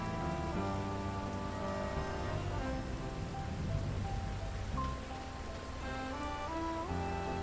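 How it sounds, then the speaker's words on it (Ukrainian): Steady rain in Farming Simulator 22 patters on surfaces throughout, with soft sustained game music tones beneath and no voices. "Дощик невеликий. Ну, чути десь там грім гримить."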